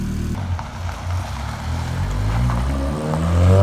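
Lotus sports car engine idling loudly while warming up, a steady deep low rumble with harmonic drone that grows slightly louder toward the end, close by with no talking.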